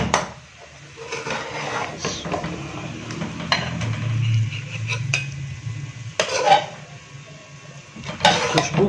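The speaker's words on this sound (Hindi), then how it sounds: "अब इसको डिश आउट करते हैं" Masala fish curry being served from a cooking pot: a ladle scraping and clinking against the metal, with soft stirring and scooping sounds in short, uneven bursts.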